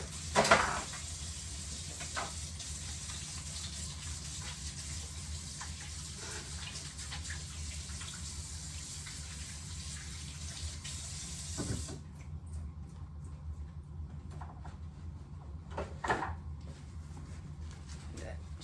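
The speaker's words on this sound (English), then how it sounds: "Let me get my hands washed." Running water from a kitchen tap while hands are washed, a steady close splashing hiss that cuts off partway through, followed by a few light knocks and rustles, with a person talking over it.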